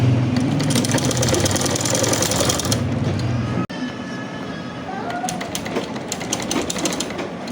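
A sewing machine stitches a half-inch seam joining shalwar panels, running loud and steady for a few seconds, then stopping abruptly and resuming more softly amid handling noise.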